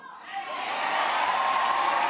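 Crowd noise swells at a Barack Obama speech in Kansas City, a broad roar rising from quiet to loud and holding steady, heard from within the audience.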